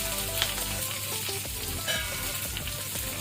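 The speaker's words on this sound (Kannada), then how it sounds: "ಇದನ್ನು ಸ್ವಲ್ಪ ನಾವು ಫ್ರೈ ಮಾಡ್ಕೊಳ್ಳುವ." Onions and chillies sizzle steadily in oil, a continuous crackling fry with occasional scraping and stirring noises.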